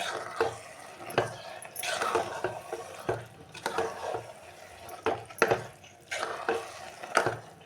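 A spoon stirs chilli powder into egg curry in a pan, giving repeated close scraping and sloshing strokes in uneven bursts, with no voices.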